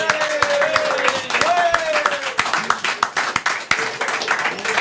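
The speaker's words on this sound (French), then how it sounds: "On peut les applaudir." Studio audience at a jokes show claps in uneven bursts, with sharp individual hand claps scattered over a steady tonal background and some voices mixed in.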